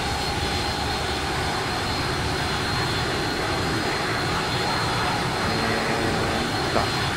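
Boeing 757 jet engines in X-Plane 11 (Flight Factor 757) run with a steady, loud broadband roar and whine, continuous throughout with no talk.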